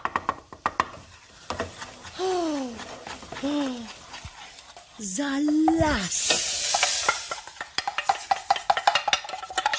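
Food frying and being stirred in a kitchen pan, with steady sizzling swells and a burst of hissing near the middle, while someone talks and makes playful sung vocal sounds over it.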